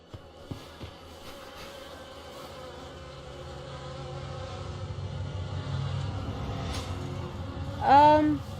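Buzzing insects in the video game The Fidelio Incident, a faint, steady drone that slowly swells, ending in a sharper, louder rising whine near the end.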